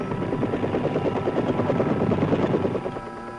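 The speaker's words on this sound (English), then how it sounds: "Army aviators get in with their dust-off helicopters" Army dust-off medevac helicopters beat steadily close by, a loud continuous rotor chop with rapid rhythmic thumps that eases slightly toward the end.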